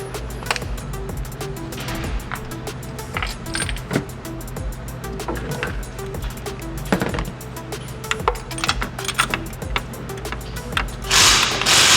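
A ratchet clicks steadily and close up while spark plugs go into a Nissan 350Z HR engine, with bursts of rapid pawl clicking, some tool clanks and a final louder scrape; no one speaks.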